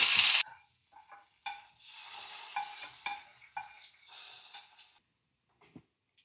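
Mustard seeds, dried red chilli, shallots and curry leaves hit hot oil for a lentil curry tempering, giving a sharp hiss followed by short bursts of crackling sizzle and stirring that fade into quiet.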